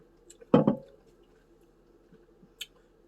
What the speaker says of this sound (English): I'm going to take one more sip from the can